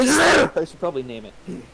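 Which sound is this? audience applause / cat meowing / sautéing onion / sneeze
sneeze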